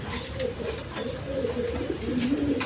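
High-flying Giribaz pigeons, a pair kept with two eggs, give soft low cooing that murmurs on and off throughout, set against steady background noise and faint distant sounds.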